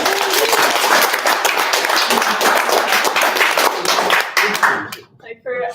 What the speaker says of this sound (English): let's the- give everybody a round of applause.